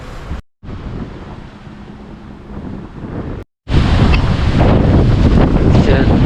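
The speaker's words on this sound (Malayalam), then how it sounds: "ഭയങ്കരമായ കാറ്റാണ് ഗൈസ് കാറ്റ് എന്ന് പറഞ്ഞാൽ നമുക്ക് എന്താ പറയുക സഹിക്കാൻ പറ്റാത്ത അത്രയും കാറ്റാണ് ഇത്" Very strong wind roars across open fields and buffets the microphone in loud, continuous gusts, broken by two brief dropouts, during road travel by auto rickshaw.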